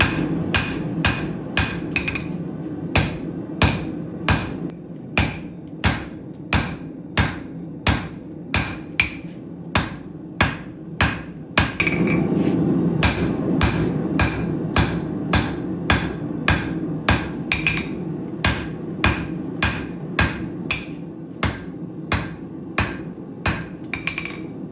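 A damascus steel billet is hammered by hand to draw it out, a long run of loud, sharp, evenly spaced ringing blows on the anvil, close by, with a brief pause near the middle.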